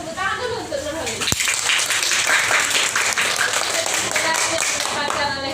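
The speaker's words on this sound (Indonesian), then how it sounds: "Tepuk tangan dulu untuk Nurhadillah." A classroom full of students claps together in steady, dense applause lasting several seconds, with a teacher's voice speaking over the clapping at the start.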